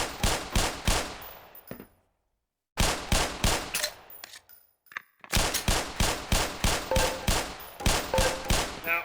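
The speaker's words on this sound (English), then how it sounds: "Put 7 rounds in the center ring of each target." Rapid pistol shots at targets on a Black Mesa Hazard Course firing range, a loud close series of evenly spaced cracks in several bursts with short pauses between strings.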